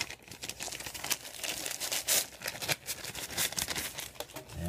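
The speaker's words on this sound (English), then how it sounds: "So here's the actual video camera in the packaging." Plastic and paper packaging of a Sony HDR-PJ650 Handycam camcorder is unwrapped close up, a continuous run of loud crinkling and rustling with brief tearing bursts.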